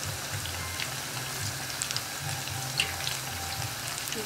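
Food sizzles and crackles steadily in a hot frying pan as it is turned, a soft, continuous hiss with occasional small pops and light clinks, with no talk.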